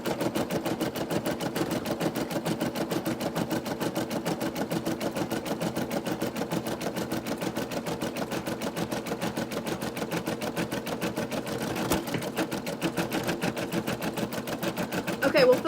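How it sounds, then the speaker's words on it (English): An embroidery machine stitches out an applique design with a fast, steady, even mechanical chatter that runs unbroken at moderate loudness and close range, with no talking over it. "Do you guys have any more questions while this is just stitching out?"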